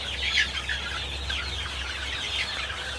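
A busy flock of black broiler chickens clucks and chatters nearby, a continuous murmur of soft calls over a low background hum.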